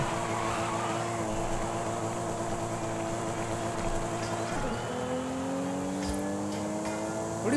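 A Toyota Supra driving, with a steady engine drone and layered harmonics under road noise, then a rising pitch as it picks up speed near the end, heard from inside or close by.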